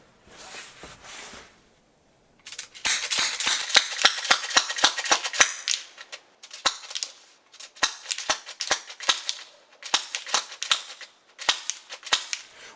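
A CO2 airsoft shotgun fires in rapid succession, a long run of sharp, snappy cracks in quick bursts separated by short gaps, loud and close with a hissing burst of gas behind the shots.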